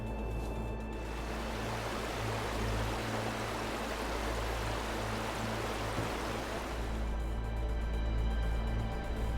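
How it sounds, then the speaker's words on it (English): Gado Falls, a waterfall at the base of Mount Kariba in a Hokkaido gorge, fed by mountain streams, roars in a loud, dense, unbroken rush of falling water close by, with no voices. "a deep roaring sound can be heard as I venture in"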